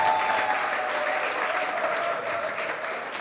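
A crowd at the Ogbokor Ikwere gala night applauds in a steady, even wash of clapping that holds for the whole stretch, slightly distant and unbroken.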